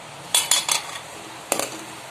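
A spoon clinks against a bowl while stirring a gooseberry mixture: a few sharp metallic taps in quick succession, then a pause and another brief cluster, close and clear with no talking.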